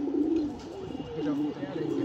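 Racing pigeons coo steadily in a low, rolling murmur that runs through the whole stretch, with human voices mixed in close by.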